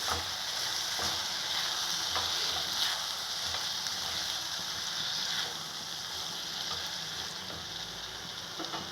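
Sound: stirring onion and tomatoes frying in a pan

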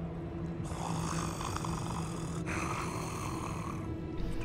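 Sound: character snoring loudly in Hogwarts Legacy video game

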